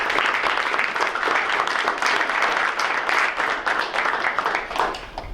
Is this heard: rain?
no